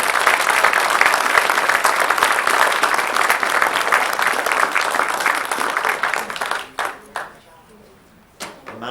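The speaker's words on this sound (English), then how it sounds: "So one more round of applause for Ms." A board meeting audience applauds to honour a parish teacher. A dense, steady wash of many clapping hands carries for about seven seconds, then thins into a few scattered claps and quiet.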